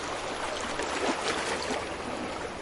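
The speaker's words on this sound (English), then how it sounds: "Feel the water around you, listen to the soothing sounds" Flowing stream water in a relaxing bedtime story, a constant soft rushing and trickling wash with gentle gurgles, steady and unbroken throughout with no voices.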